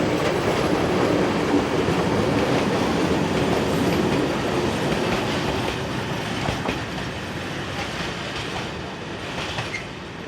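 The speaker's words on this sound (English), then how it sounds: "In the early evening, a pickup freight, number 62652, operates north to Plzeň." A pickup freight train hauled by a CD Cargo Class 240 electric locomotive rolls past heading north toward Plzeň in the early evening, a loud continuous rumble of wagons with rhythmic wheel clatter that fades slightly toward the end.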